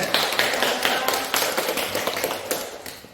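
A seated audience at a talk on returning to farm life claps to welcome a speaker, a steady patter of hand claps that carries on through the whole stretch with no one talking.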